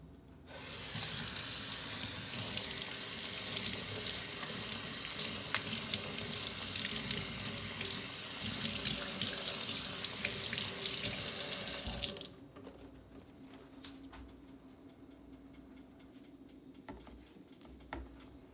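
Lettuce leaf rinsed under a running kitchen tap, a steady loud rush of water into the sink for about twelve seconds, then the flow stops and only faint room noise remains.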